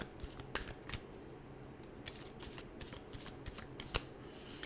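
Animal oracle cards are shuffled close by in a fast run of soft papery riffles and flicks. The shuffling goes on continuously at low volume with no speech.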